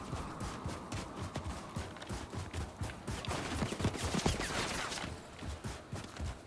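Rapid gunfire from a Call of Duty: Modern Warfare 3 multiplayer match, dense overlapping shots and bursts rattling continuously at moderate loudness without speech.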